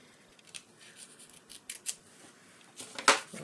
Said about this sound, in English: I might have to trim that off